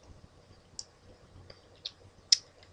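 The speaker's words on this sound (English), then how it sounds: "I hate having to type this out all the time" Computer keyboard keys clicking faintly and sparsely while code is typed, a few scattered soft taps with one sharper click near the end, close and quiet.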